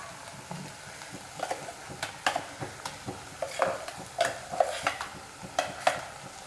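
Ground coconut being stirred into cooked pineapple pieces for a Kerala pineapple pachadi, with repeated close spoon scrapes and clinks against the pan over a faint sizzle.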